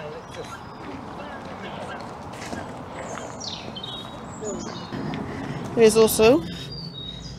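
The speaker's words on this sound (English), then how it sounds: "Hear that seagull?" A herring gull calling outdoors in the Devon countryside, a short burst of loud yelping cries near the end after someone speaks briefly, with other small bird chirps in the background.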